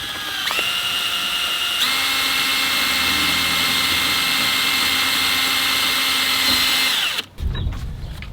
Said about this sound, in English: Just very gently with the drill